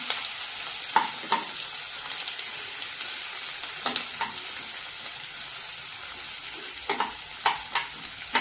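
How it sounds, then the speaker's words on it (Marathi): Thickly chopped onion sizzles steadily in a hot pan for a Marathi green-tomato vegetable dish, with occasional scraping stirs of a spoon cutting through the constant frying hiss, close and without talk. "कांदा चांगला परतून घेऊया."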